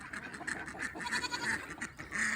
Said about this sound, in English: Dang goats.